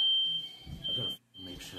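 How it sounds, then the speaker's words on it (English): Smoke-alarm style fire alarm sounding as a steady high-pitched tone in a room, loud and continuous, briefly cutting out, with people talking over it. "Fake fire alarm? This is a real thing."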